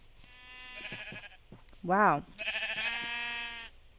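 Sheep bleat in Minecraft, a few game bleats around a person's short exclamation and talk, the calls fairly loud and close.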